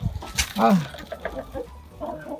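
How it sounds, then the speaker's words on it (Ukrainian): A rooster and hens on a farmstead give short clucks and a brief crowing call, close and moderately loud, mixed with other yard noise. "наш півник адаптувався тут добре"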